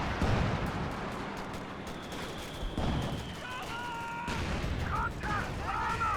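Booming tank gunfire from a Panzer IV in the video game Company of Heroes 2 rumbles under other battle sounds, repeated heavy blasts mixed with gunfire while a commentator talks over them.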